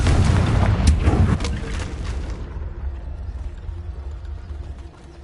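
A Confringo blasting spell in Hogwarts Legacy erupts in a loud, close explosion with crackling bursts, then the roar cuts off and decays into a low, lingering rumble.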